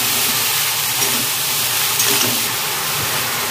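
Water lily stems (shapla) frying in a pan produce a constant, bright hissing sizzle that stays loud and even throughout, with faint crackles and no voices.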